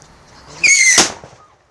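A close firework rocket goes off with a sharp rising whistle followed immediately by a crackling bang that fades quickly, exploding on the ground without taking off.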